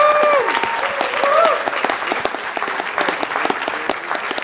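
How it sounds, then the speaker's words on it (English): Steady, loud applause and cheering rise from the crowd at a hackathon closing ceremony for the finalists. A few whoops ring out over the dense clapping at the start. "let's give them a round of applause"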